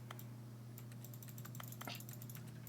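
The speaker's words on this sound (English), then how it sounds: "Oh, you could still make clicking noises." Clicking in The Stanley Parable: a steady scatter of sharp, keyboard-like clicks over a low constant game hum, close and fairly quiet, with no voices.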